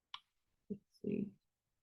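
A couple of soft, close computer mouse clicks on a run button while coding in Python, short dry taps separated by brief pauses in a quiet room.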